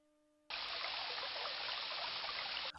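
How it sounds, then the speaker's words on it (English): A small waterfall in King's Quest: Quest for the Crown pours into a clear lake, a steady bright rushing of water that starts abruptly and runs alone and unbroken for a couple of seconds. "A small, pleasant waterfall pours into a crystal clear lake."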